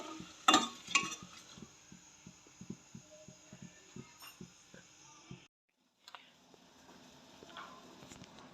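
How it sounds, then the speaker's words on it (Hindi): Jaggery being stirred into milk in a bowl gives off a steady run of soft, rhythmic clinks and scrapes, close and quiet, with a brief pause before the stirring picks up again. "इसको अच्छी तरह से आपने मिक्स करना ताकि गुड़ दूध के अंदर मेल्ट हो जाए"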